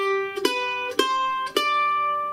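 Beginner bluegrass mandolin playing When The Saints Go Marching In, three separate bright plucked notes spaced about half a second apart, each ringing clearly with no speech over them.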